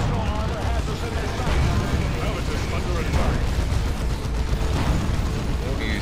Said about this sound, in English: You use Meta Bomb Pack on this vehicle.